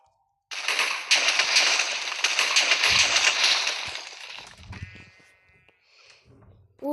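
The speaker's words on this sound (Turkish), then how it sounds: "TNT patlama sesi." A TNT explosion sound effect bursts in abruptly with a loud, crackling blast that rumbles and slowly fades over a few seconds, followed by faint tonal blips.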